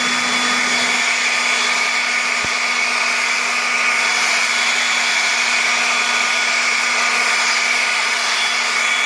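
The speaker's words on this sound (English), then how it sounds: "So here's the Ryobi 280 CFM." A Ryobi 280 CFM leaf blower runs steadily at full power, a loud, close, unbroken airy whine with a constant hum beneath it.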